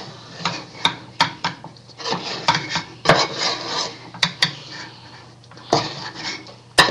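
Homemade playdough with colours mixed in is worked by hand and utensil in a bowl, giving irregular close scrapes, knocks and rubbing clatter throughout.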